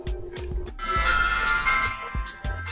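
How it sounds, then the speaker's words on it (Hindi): An Itel Magic 3 touch-keypad phone rebooting plays a bright, sustained startup chime with layered tones across nearly three seconds, while several low thumps from handling are heard underneath. "फोन को रिबूट करते हैं"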